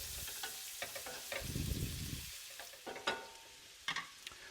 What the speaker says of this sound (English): now that is sauteing there a little bit